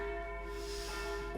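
Church-like bells ringing during a yoga session, a single sustained metallic tone with layered overtones that hangs evenly at a low volume for a brief moment over faint background hiss.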